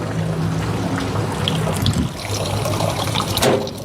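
Water pours from the hose of an evaporative cooler pump in a continuous close splashing trickle, with a low motor hum behind it.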